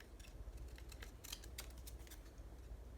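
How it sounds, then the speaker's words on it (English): Scissors snip through paper ephemera for a journal in a quick run of close, crisp cuts against a low steady hum. "let's cut this down then"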